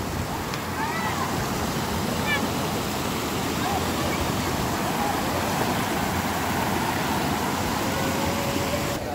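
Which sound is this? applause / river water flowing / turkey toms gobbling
river water flowing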